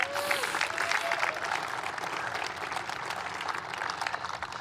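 Audience applause fills a presidential speech on an Intel chips agreement, a steady, fairly distant wash of clapping that holds evenly throughout with no voices over it.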